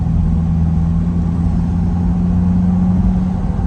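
A Chevrolet Corvette C8 with a replaced transmission cruises along. Its engine gives a loud, steady low drone with a humming tone, heard from inside the car with no talking.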